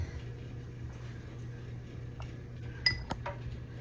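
A lid is fitted onto a mac and cheese machine holding 600 grams of pasta and a little nutmeg, giving a couple of light clinks and taps close by over a low steady hum.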